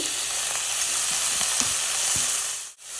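Chopped vegetables, including cabbage, sauté in a hot pan for veg fried rice with a loud, steady sizzle and a few faint stirring scrapes, and the sound dips briefly near the end.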